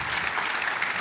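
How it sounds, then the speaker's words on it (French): Conference audience applause rises as a dense, even burst of clapping from many hands, filling the moment without any voices. "on peut les applaudir pour cet échange"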